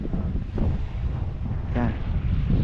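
Steady wind buffets the microphone in a low, continuous roar, with a faint voice briefly audible beneath it.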